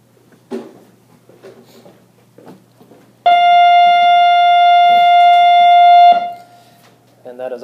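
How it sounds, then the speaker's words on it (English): A loud electric school bell blares a steady, buzzy tone for about three seconds, with quiet talk and bumps before and after. "that is our tremendously loud bell we have at our school"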